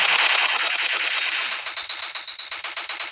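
Rapid automatic gunfire from a shooter video game, a loud dense burst that runs unbroken for about three seconds, close and alone with no talking.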